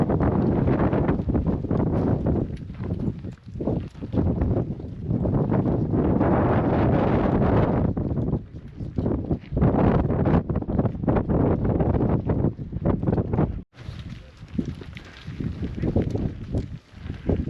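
Strong wind roars across a high mountainside during a summit push on Kilimanjaro in extreme weather, a loud, continuous buffeting that batters the microphone for the whole stretch, with a brief drop before the gusts resume.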